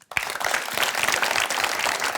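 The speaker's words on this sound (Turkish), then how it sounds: "Bir alkış." Applause from a crowd, dense steady clapping that starts abruptly and carries on loudly throughout, with no voices.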